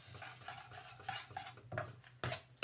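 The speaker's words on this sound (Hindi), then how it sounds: "अब इसको कर देना मिक्स।" A spoon stirs an egg into batter in a bowl, giving quiet, irregular clinks and scrapes with short bursts and pauses, close by and free of speech.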